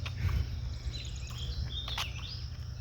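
Birds call in wetlands near a power plant, scattered thin chirps and short whistles sounding faint to moderate over a steady low hum, with no talk.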